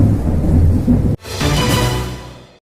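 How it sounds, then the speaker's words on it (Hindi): Heavy rain during a thunderstorm in Prayagraj, a loud close roar of downpour and rumble that drops out abruptly, then returns and fades away. "भयंकर बारिश हो रही है।"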